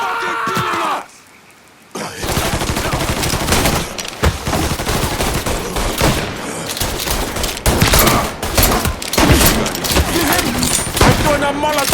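Rapid gunfire from the video game Mafia III, loud and dense bursts of shots and fusillades after a brief quiet gap, with shouted voices mixed in.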